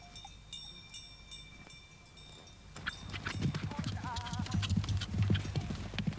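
Jura Franche-Montagne horses' hooves clip-clop in a steady, busy rhythm in Switzerland's traditional horse-breeding area, close and fairly loud, starting after a quieter opening with faint tones and growing denser with scattered background sounds.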